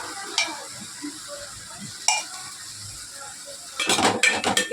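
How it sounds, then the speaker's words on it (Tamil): Tomato, coconut and a cumin-fenugreek spice powder sauté in a pan for a fish curry paste, with scattered scraping clicks over a soft sizzle and a busier burst of stirring at the end. "இப்போ நல்லா வதக்கணும்."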